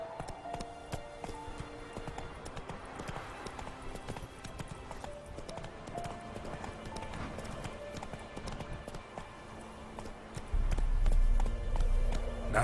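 A horse gallops in The Witcher 3: Wild Hunt, its hooves beating a rapid, continuous clip-clop close by over faint tonal game sounds. The galloping grows heavier near the end.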